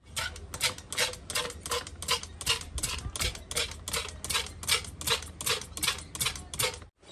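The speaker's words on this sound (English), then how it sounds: "Grab yourself a pump bottle." A hand pump bottle draws fluid from a power steering reservoir with a steady series of about fourteen rhythmic pumping strokes, close and fairly loud, then stops abruptly.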